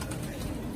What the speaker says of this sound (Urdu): آپ دیکھ سکتے ہیں ماشاء اللہ کبوتر سارے